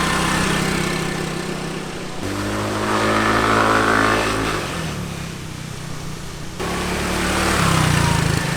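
A small scooter engine buzzes and revs up and down as the rider twists the throttle, the pitch climbing and dropping over several bursts, close and fairly loud.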